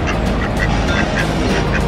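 Several ducks quacking loudly and repeatedly close by while being fed in Gatlinburg, Tennessee, with overlapping honking calls over continuous background noise.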